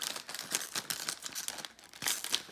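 Scissors snip and crinkle through a thin candy seaweed sheet from a DIY candy sushi kit (Kracie Popin Cookin), giving a string of close, crisp rustling cuts at an uneven rhythm.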